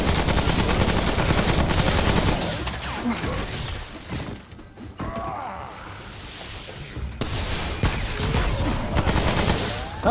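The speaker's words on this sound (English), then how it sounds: "How's the dead guy still shooting me?" Enemy gunfire in the shooter Remnant: From the Ashes, dense rattling bursts and volleys with crashes and shattering, dropping briefly to a lull midway before heavy firing resumes, loud and close.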